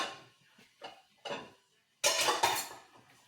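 A few metallic clanks of a lid being set and adjusted on a pot of beans and ham hocks, ending with a louder rattling clatter of metal on metal.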